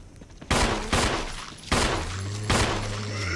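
Pistol fire in the Resident Evil video game: four loud, sharp shots, spaced unevenly over a few seconds, each followed by a brief echoing decay, with a low in-game hum underneath.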